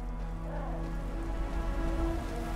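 Rain falling in the Enderal mod for Skyrim: a soft, steady patter of drops on surfaces with a low ambient hum underneath, quiet and continuous with no voices.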